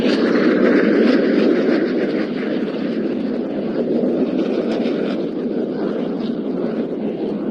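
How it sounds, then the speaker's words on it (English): Two Aero L-159 jets pass at an airshow, one flying slow at about 130 knots: a steady, loud roar of jet engine noise runs the whole way, with broadband rumble and some wind buffeting. "A very successful toss attack there from the two L159s. The slow one flying through at about 130 knots."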